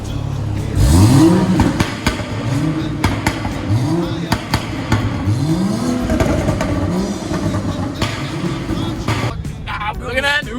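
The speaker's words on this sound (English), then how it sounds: "Rev it one time." A car engine revs in repeated rising pulls over a steady idle rumble, loud and close, with voices talking and shouting over it.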